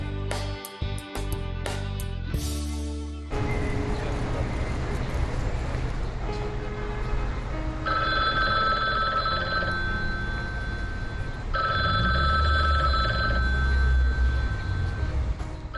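An old-style telephone bell rings in repeated bursts over a rumbling background on a Latvian radio broadcast, after a few short musical tones at the start.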